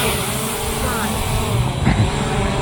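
A Ruko F11 GIM2 GPS drone lifts off in auto takeoff, its propellers making a strong, close, continuous whirring buzz that swells slightly near the end, while someone talks over it.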